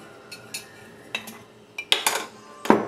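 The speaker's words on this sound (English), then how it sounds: "Let me take out the spoon." A metal spoon is drawn out of a glass jar beside a funnel while making homemade laundry detergent, giving a series of sharp clinks and scrapes that grow louder toward the end, with no talking.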